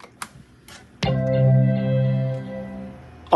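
A few faint clicks, then a loud sustained electronic startup chord from a 20th Anniversary Macintosh rings out and slowly swells before a brief click at the end.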